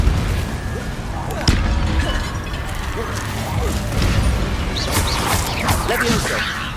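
Depulso spell cast in Hogwarts Legacy, a burst of magical whooshes and impacts over busy combat effects, with a voice calling out spell names.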